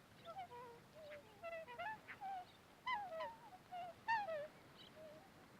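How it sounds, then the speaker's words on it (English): Wild geese honk as a flock takes off at a new resting spot near the coast, with a run of repeated calls that overlap and rise and fall. They sound moderately distant over a quiet outdoor background. "Wild, sad honking as they take off."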